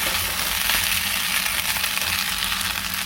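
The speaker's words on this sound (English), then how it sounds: "you hear that sizzling up nicely" Continuous broad sizzling hiss from a pot of rice and chicken frying for pelau, steady and close, with no voices.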